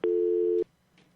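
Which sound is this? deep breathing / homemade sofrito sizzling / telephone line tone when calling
telephone line tone when calling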